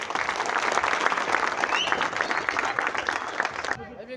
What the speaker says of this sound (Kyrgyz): Бир кол чаап койсоңуздар болот.